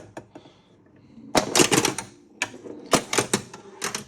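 Pop bumpers in a League of Legends pinball game being struck hard, giving sharp clacking hits in quick clusters with short pauses between, close and fairly loud.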